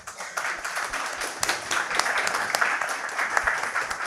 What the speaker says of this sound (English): a great round of applause for our guests